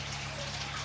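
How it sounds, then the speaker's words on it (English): Treated tap water pours steadily into an aquarium tank, a dense continuous rushing splash close by and fairly even in level, with a low hum running underneath. "we're going to slowly fill up with treated tap water"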